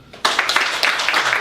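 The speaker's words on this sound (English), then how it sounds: "a round of applause if you've been here before" A short burst of applause from a small comedy club audience, starting abruptly and carrying on for just over a second with distinct individual claps, fairly close and loud.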